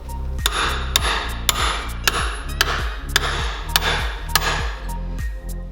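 Steel chisel struck repeatedly with a hammer against a truck steering arm during a Tesla and Tatra off-road build, about ten sharp, loud metallic impacts in a steady rhythm, each ringing briefly over a low engine or compressor drone.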